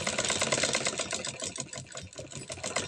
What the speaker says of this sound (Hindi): सीधा सिलाई लगा के इसको यूं इस तरीके से